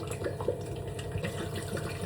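Water pours steadily into a cooking pot for a thin lentil saaru seasoned with sambar powder, a continuous close splashing fill with no talk.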